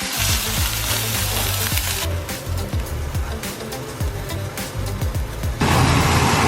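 Steady frying sizzle of steak in a hot pan, a dense hiss running throughout, with low rumbling noise underneath and a louder burst near the end.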